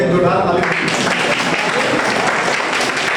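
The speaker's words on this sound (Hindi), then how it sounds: "उनके लिए एक जोरदार ताली" A gathering at a teacher-training event breaks into loud, sustained applause that swells quickly and continues as a dense, even patter of many hands, with a voice briefly heard at the start.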